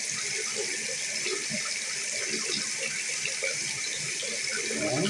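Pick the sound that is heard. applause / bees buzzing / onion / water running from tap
water running from tap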